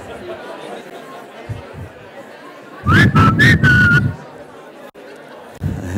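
A person whistles to get a crowd's attention at a talk before it starts, one loud rising-and-falling whistle lasting about a second amid room chatter, with speech and noise around it.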